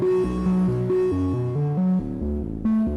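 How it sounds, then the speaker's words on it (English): Moog Minitaur synthesizer playing a bass melody of short stepped notes through the Octatrack's dark reverb, steady and close with a soft wash trailing each note. "So a Minitaur synthesizer, also it works with reverb here."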